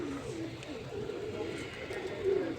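Three pigeons perched on a ledge give soft, low repeated coos over light background noise, fairly close.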